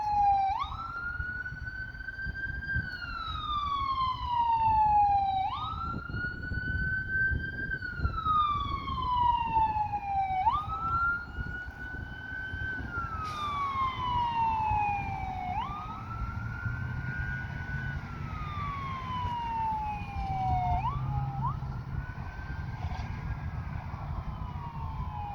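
A Pafford ambulance siren wails in long, repeated rising-and-falling cycles, steady and fairly distant, with low background rumble beneath.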